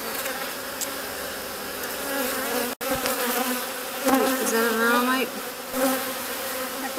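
Honey bees fill the air with a dense, continuous buzz around a hive after swarming following a honey harvest, with individual bees droning closer past the microphone.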